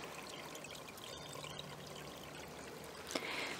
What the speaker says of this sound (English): I can hear the water gurgling under the plank.